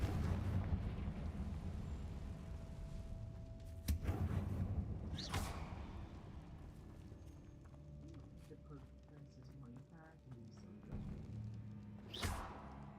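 Fire spell blasts in the Hogwarts Legacy video game, sharp explosive bursts that come a few seconds apart over low rumbling game sound, with a voice calling out spell names.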